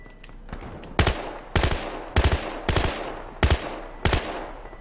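Loud bursts of automatic gunfire in the video game Battlefield Hardline, six rapid volleys spaced roughly every half second to second, close and punchy.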